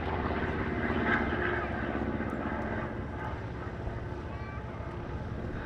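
Curtiss P-36C fighter's propeller engine at the Duxford airshow, a loud sustained droning roar that eases slightly after a few seconds, with crowd ambience beneath.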